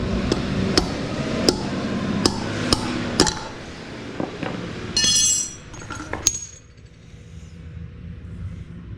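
Hammer blows drive a wheel bearing out of a motorcycle wheel in a workshop, a run of sharp metallic strikes at a steady pace, then a brief metallic clatter and a few lighter taps before it quiets.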